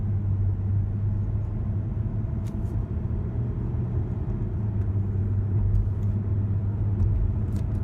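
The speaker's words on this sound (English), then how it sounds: "Here we go with normal shifting again." A 2007 Mercedes ML320 with a 722.9 automatic transmission, heard from inside while driving slowly at light throttle: a steady low engine and road rumble with no distinct shift events standing out, no talking.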